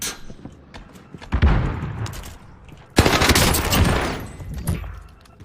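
AS-44 rifle fire in Warzone Pacific, two loud close bursts of rapid shots, each trailing into a rumbling echo, with softer scattered shots between them.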